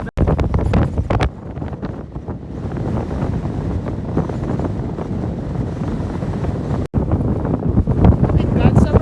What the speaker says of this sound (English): Oh my God, sobrang windy.